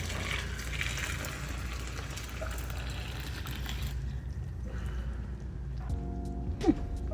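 Nearly boiling water pours steadily in a rushing stream over weeds for homemade wine, then stops, followed by a few quiet clinks and a light knock.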